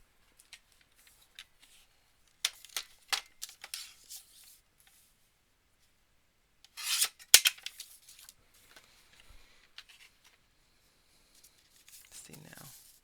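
Scissors cutting through paper card stock in a crafting session: a few quick snips, then a denser cluster of crisp cuts, close up with quiet pauses between.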